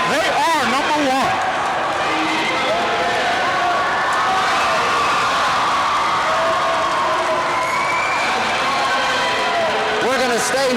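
A home crowd of East Brunswick fans cheers and shouts in a gym after a 1987 boys' high school basketball tournament final, a loud sustained roar that rises again at the end, with a commentator talking over it.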